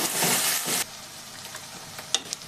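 Chopped onions fry lightly in a pan, a loud sizzle and stirring for the first moment that then drops to a quieter crackle with a few small pops.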